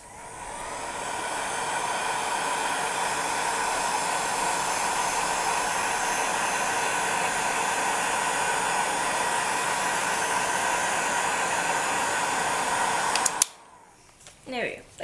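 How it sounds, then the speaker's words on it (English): A heat gun blows hot air over a drying resin pendant, a loud, steady whooshing roar held for about thirteen seconds before cutting off abruptly into quiet handling sounds. "then what I like to do is I just like to take a heat gun"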